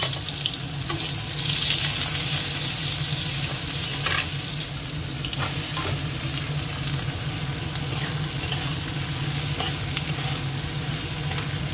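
Okra frying in hot oil with chopped green chillies and onion, a continuous close sizzle and crackle with occasional stirring clinks throughout, loudest early on and then holding steady.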